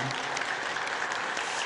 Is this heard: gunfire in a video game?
no